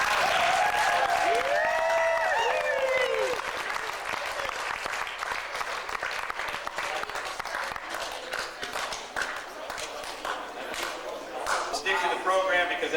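An audience at a Memorial Day breakfast in Oak City breaks into loud, sustained applause, a dense wash of many hands clapping that thins slightly toward the end. Voices can be heard alongside it.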